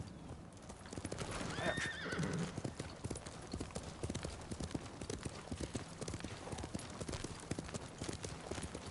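Steady clip-clop of horse hooves at a trotting rhythm in Ghost of Tsushima, close by, with a brief whinny early on.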